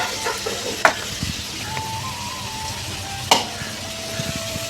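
Potatoes frying in a wok in a home kitchen, a soft steady sizzle with a couple of sharp clinks of a utensil against the pan and faint stirring, no talk.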